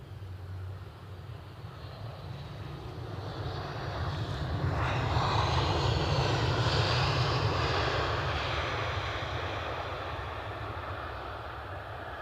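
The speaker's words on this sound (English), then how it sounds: "Next arrival, an EasyJet A320 from Brum." An EasyJet Airbus A320 arrives at Edinburgh Airport with a broad jet engine roar that swells as it passes close and then slowly fades, with no talk.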